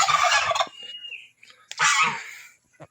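Turkeys gobble in two loud, close bursts, the first and last around a short pause with quieter chick peeps and rustling between, no talk.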